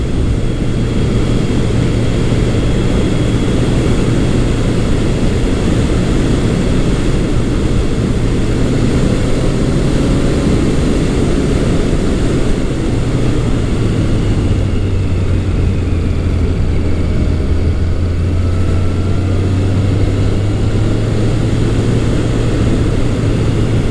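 A Yamaha FJ1200 motorcycle engine on a ride, a loud, steady drone whose pitch sags and then climbs as it pulls, with constant wind rush over it and no talk.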